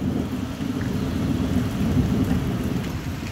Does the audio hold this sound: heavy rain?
yes